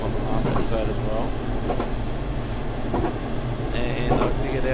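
Keihin-Tohoku Line train running through Tokyo in a JR East train simulator game, a steady rumble with wheel clatter and squealing tones, while a person talks over it.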